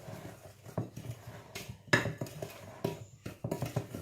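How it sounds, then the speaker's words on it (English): Sugar and cake ingredients for a vanilla Christmas cake are mixed in a bowl, giving close, irregular knocks and scrapes of a utensil against the bowl in short bursts with brief pauses between. "So what you want to do, you want to mix that together"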